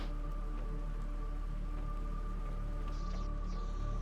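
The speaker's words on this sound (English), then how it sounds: "See how it's raining out here?" Steady rain falls outdoors in the Planet Crafter video game, a constant dense hiss with a low hum running beneath it throughout, with no voices.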